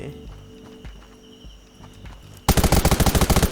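Rapid automatic gunfire in the survival video game Undawn bursts in suddenly as a loud, fast stream of regular shots after a quieter stretch of game sounds and footsteps.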